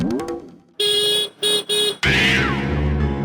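A car horn sounds in several loud blasts, short toots and then a longer honk, with a burst of music right after.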